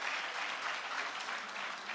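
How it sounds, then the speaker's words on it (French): Applause from the audience at the 2019 COPAD launch ceremony, a dense, steady wash of many hands clapping with no breaks, fairly loud and close throughout. "Natel Minougou, sous vos applaudissements encore, mesdames et messieurs,"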